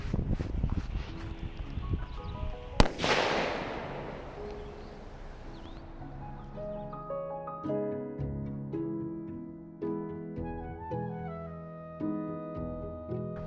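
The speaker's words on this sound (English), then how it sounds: "we're gonna go ahead and do the artillery shell now that should have gone in the air" A damaged firework artillery shell, lit on the ground in a big open field instead of launching into the air, goes off in one sharp loud bang, followed by several seconds of crackling hiss and then a string of scattered pops and bursts.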